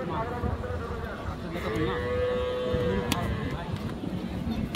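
Friesian cow lowing once at a busy rural cattle market in Dinajpur, a drawn-out moo rising over a constant crowd murmur and scattered voices.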